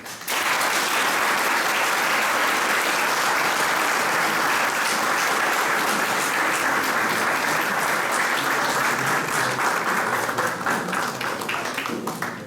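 A large audience gives sustained, dense applause after a Circassian folk music group's performance at the Ankara Adyghe association, steady and loud throughout.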